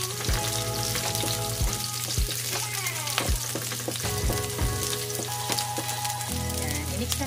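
Garlic sautéing in a pan for ginisang sitaw with pork, steady close sizzling and frying crackle with repeated scrapes and taps of a spatula stirring.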